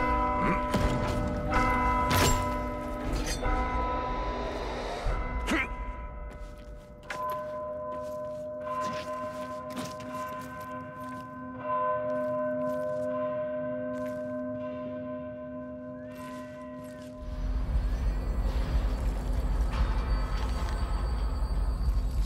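Bell ringing in the game Vermintide: loud, resonant church-bell strikes ring out near the start, then a long humming decay sustains before battle noise swells up at the end.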